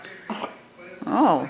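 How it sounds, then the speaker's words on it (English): A young girl lets out a short voiced burp up close, a brief tone that rises and falls after some quieter murmured vocal sounds. "That was a good burp."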